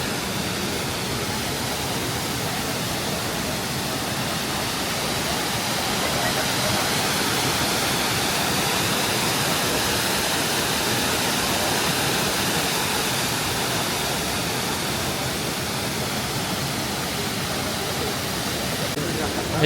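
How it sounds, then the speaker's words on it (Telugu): A waterfall in Germany's Black Forest roars steadily and loudly, a dense, unbroken rush of falling water close by that fills the whole scene from start to finish. "ఈ వాటర్ ఫాలే అంత ఇంత బాగుంది ఇది"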